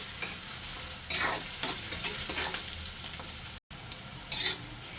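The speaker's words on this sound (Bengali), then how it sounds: "পেঁয়াজটা আমার লাল লাল করে ভাজা হয়ে গেছে" Close sizzling of onions frying with black peppercorns in a pan until reddish-brown, with intermittent spoon scrapes and stirring clatter over a constant hiss; a brief dropout near the end.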